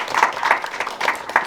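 An audience at a youth film festival panel session claps, a steady patter of many hands at moderate loudness with some louder bursts, lasting through the short stretch without speech.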